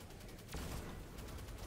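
Heavy sticky grenade launcher fire in Destiny 2, a dense burst of rapid, continuous blasts and gunfire heard fairly close across under two seconds, with no talking.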